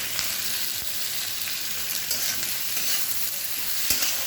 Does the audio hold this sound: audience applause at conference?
no